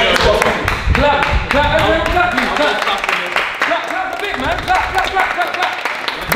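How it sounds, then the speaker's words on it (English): A group claps their hands indoors during a quiz game, a burst of dense, sharp claps mixed with people talking and laughing over them. "Clap."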